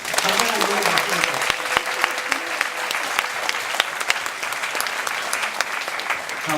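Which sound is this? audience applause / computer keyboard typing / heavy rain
audience applause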